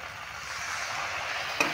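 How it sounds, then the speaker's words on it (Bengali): Spice paste for a jackfruit seed dhoka curry frying in a pan with a splash of water, a steady close sizzle and hiss that holds evenly, ending with a brief scrape of a spatula. "আবারও একটু জল দিয়ে কষিয়ে নেব"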